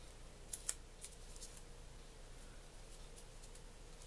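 Scissors snip paper in a few quick, close cuts early on, then a faint hiss of room tone with only a light click near the end; no one talks.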